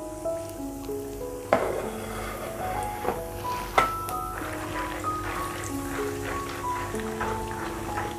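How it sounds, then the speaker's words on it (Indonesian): Peanuts frying in hot oil in a pan for an East Javanese gado-gado, a soft sizzle under sharp clinks of a utensil against the pan, with steady tones running underneath. "Selanjutnya saya goreng sekalian untuk kacang tanahnya ya."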